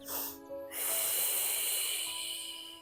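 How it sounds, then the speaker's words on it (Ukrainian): A long, steady breath exhaled during a breathing exercise for deep abdominal muscles, a close airy hiss that rises and holds for about two seconds after a brief inhale. "Дуже довгий видих."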